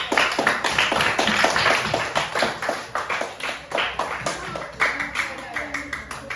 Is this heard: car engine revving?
no